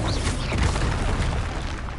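A broad, rumbling blast from the Confringo blasting spell in a wizard video game, a dense roar that fills the whole moment at steady loudness, with no speech over it.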